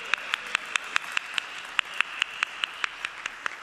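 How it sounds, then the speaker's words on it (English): A congregation at a church service claps in a steady, fairly quick rhythm, a few hands together giving sharp, evenly spaced claps at moderate volume with light room echo. "Yeah, you can clap."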